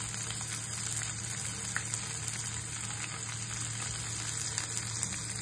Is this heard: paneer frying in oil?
yes